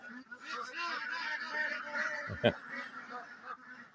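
Geese and ducks honk and quack together in a noisy, continuous chorus as they wait to be let out in the morning, with a sharp thump partway through and a voice faintly mixed in.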